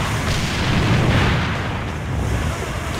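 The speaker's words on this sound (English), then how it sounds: "Nades and smokes coming down now." Grenades and smoke grenades landing in the shooter AVA during an esports match: a continuous, heavy rumble of booms and hissing bursts, loud and layered with no clear gaps.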